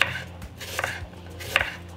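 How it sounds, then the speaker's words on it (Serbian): A single onion is chopped with a knife on a cutting board in a home kitchen, giving three sharp knife strikes spaced well apart, fairly close and clear, with no talk. "Sada ću iseći jednu glavicu luka"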